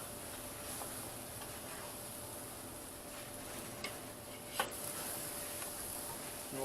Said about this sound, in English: we're just going to put these right over the direct flames